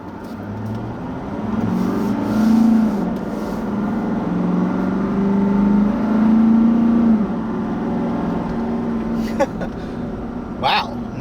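A 2016 Nissan Titan XD pickup truck weighing almost 4 tons drives steadily along a road, its engine droning low and rising slightly in pitch, with tire and road noise throughout.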